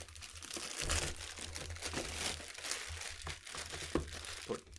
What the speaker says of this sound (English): we've got this bag around it that we can probably just rip apart at this point